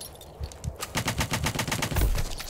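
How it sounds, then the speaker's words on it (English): An assault rifle fires in the video game When the Light Dies: a rapid, evenly spaced automatic burst of close, sharp shots lasting about a second and a half, with no talking. "it's not really a machine gun, it's like an AR"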